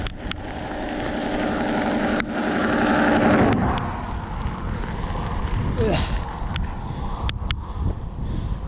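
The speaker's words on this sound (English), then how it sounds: "The headwind's not so fun though." Headwind buffeting a microphone on a morning bike ride, a continuous low rumble and roar that swells and eases, with a person talking over it.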